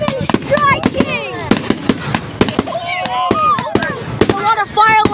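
Fireworks bursting over Pounawea in a relentless barrage, sharp loud bangs at short irregular intervals with whistling rockets and crackle in between, while voices chatter and react nearby.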